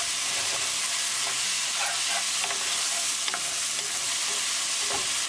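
Cumin, coriander and garam masala being stirred into tender tomatoes for chana dal with chickpeas, a steady close sizzle and frying hiss with soft scraping stir strokes throughout, no talking.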